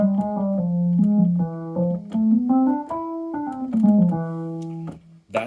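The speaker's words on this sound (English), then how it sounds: "That's the sound of the Spanish Phrygian" An E Spanish Phrygian scale, the harmonic major mode, played note by note up and back down at an even, moderate pace, each tone ringing clearly with no talking.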